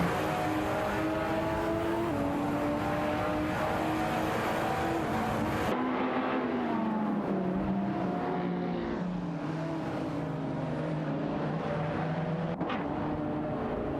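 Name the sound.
Lamborghini Murcielago SV and BMW 3.0 CSL racing in a racing video game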